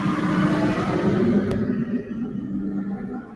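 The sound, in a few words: loud truck passing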